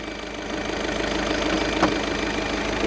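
A 2015 Volkswagen Vento Highline diesel engine runs at a steady idle nearby, a continuous low rumble with a faint knocking texture throughout and one brief click near the end.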